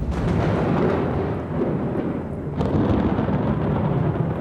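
Heavy thunder rumbles steadily across a forest during a rainy-season storm, a loud continuous roll with a fresh crack about halfway through, no voices.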